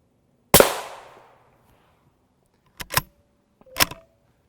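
An M855 rifle round fired at AR500 Level IV body armor gives one sharp, loud crack with a decaying ring, then two shorter, quieter metallic clicks follow a few seconds later.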